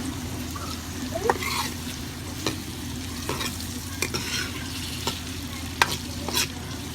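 Onions frying on low heat and stirred in a pan for Punjabi kadhi pakora, a continuous soft sizzle under a low hum with repeated clicks and scrapes of a spoon against the pan, no talk.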